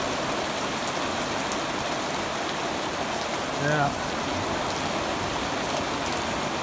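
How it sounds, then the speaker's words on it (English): Steady rain falls in a constant hiss of drops on surfaces while the sun shines through a cloud, with a brief murmured voice near the middle. "Sun's trying to shine through that cloud while it's raining."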